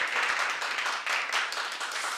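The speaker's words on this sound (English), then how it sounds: "If we give them a round of applause." A county commissioners' special presentation audience claps in a brief, moderately loud burst of scattered hand claps that carries on without a break, with no talk over it.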